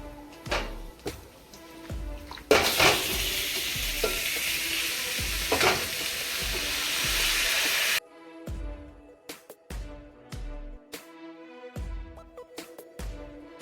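Mango pieces dropped into toasted masala in a pan, a bright loud sizzle bursting up, then stirring clatters and scrapes with the frying dying to a softer crackle.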